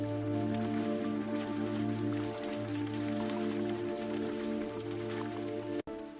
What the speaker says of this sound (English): What a downpour, but the market is still so lively.